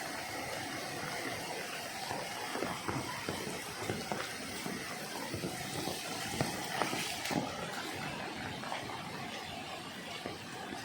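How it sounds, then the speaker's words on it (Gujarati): Flowing water from mountain springs, a steady broadband rush that stays moderately loud and continuous, with no voices over it. "બધી બાજુથી તમને આવા ઝરણા જોવા મળે"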